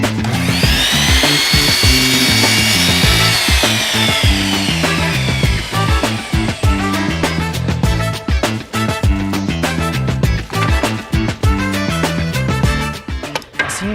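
A circular power saw disc cuts through wood, making a loud continuous whine that bites into the board at first, then rough chattering cutting noise throughout, with no talking.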